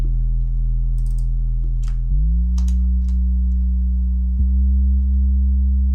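An eerie synth beat with a deep, sustained bass drone and layered low tones steps up in pitch partway through, with faint clicky accents scattered over the top.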